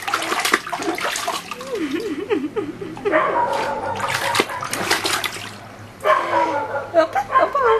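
A dog is bathed in a bathtub, with water running and splashing close by. The dog whines and yelps at a high pitch, and someone talks warmly to it over the sound of the water.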